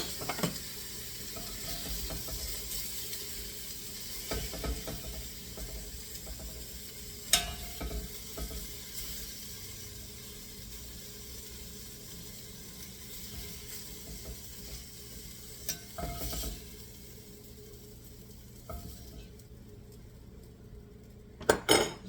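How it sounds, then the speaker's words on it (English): Pork browning in a pan for chili, a low steady sizzle under occasional scrapes and clinks of a utensil on the pan, with a few louder knocks near the end; no speech. "I'm done browning the meat."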